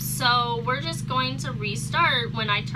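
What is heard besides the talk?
No everyday noise stands out behind the speech.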